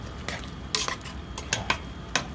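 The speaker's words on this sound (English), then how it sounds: "we're gonna give it a good stir" Ratatouille stirred in a pot with a spoon, giving a handful of sharp clinks and scrapes against the metal at irregular intervals over a soft background, close and fairly quiet.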